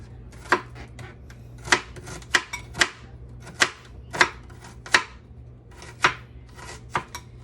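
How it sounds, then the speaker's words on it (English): A knife slices food for a shrimp flatbread in a series of crisp, irregular cuts that land close on the cutting board, roughly a dozen strokes with brief pauses between them. No one speaks. "So again, we're just going to slice."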